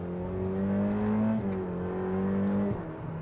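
Hong Kong Viola Ferrari 488 Pista engine revving hard, pitch climbing through quick gear shifts, loud and close with no talk.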